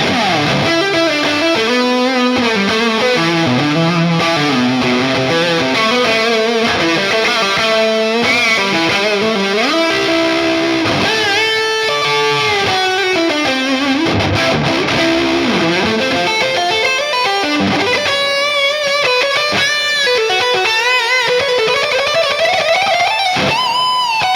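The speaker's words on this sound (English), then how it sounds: "Let's hear the neck pickup." Distorted electric guitar played through the neck pickup, a fast, busy lead line full of runs and bends, loud and continuous with effects throughout.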